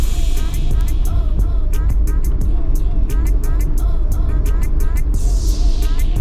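Steady, loud engine drone and road rumble from a car being driven around corners and overtaking on a road in Westmoreland and Hanover, Jamaica, with faint voices and brief chirping sounds over the constant noise.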